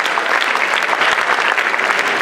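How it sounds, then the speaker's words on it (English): Sustained applause from an audience filling a lecture hall during a student leadership talk, steady dense clapping from start to end with no pauses. "Let's give Joe a big round of applause"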